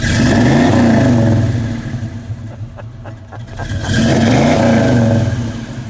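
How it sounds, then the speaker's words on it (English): A 1965 Chevrolet El Camino's 327 engine revs up loudly, drops back to a rough idle, then surges in a second strong rev, close and unaccompanied by talk. "Go ahead, give it a rev, please."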